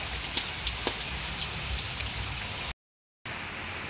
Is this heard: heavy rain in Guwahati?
yes